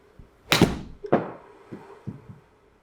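A golf club strikes a ball for a low 100-yard shot: one sharp, close impact click followed by a second fainter knock, then quiet outdoor background with a few soft thuds.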